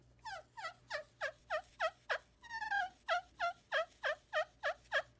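A slate turkey call worked with a conditioned cedar striker gives a quiet, close string of about fifteen evenly spaced yelps, with a quicker run of notes partway through.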